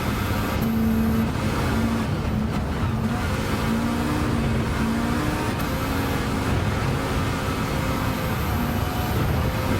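A front-wheel-drive Volvo race car of almost 500 horsepower in Gran Turismo 7 drones loudly and steadily throughout, its engine note climbing as it accelerates, with faint tire noise beneath.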